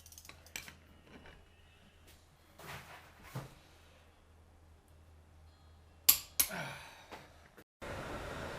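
Torque wrench tightening a Chevy K10 14-bolt rear axle during a mini spool install, set to 120 foot-pounds: two sharp, close clicks near the end stand out among quieter scattered knocks and handling noises, then a burst of hiss.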